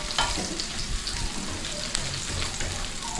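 Chayote and shrimp sauté in a pan with a steady, dense sizzle and occasional scraping stirs, a faint voice briefly underneath.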